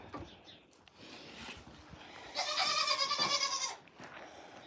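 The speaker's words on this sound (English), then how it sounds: "These goats all came out." A goat bleats loudly in a long wavering cry over a noisy outdoor background, with fainter animal sounds before it.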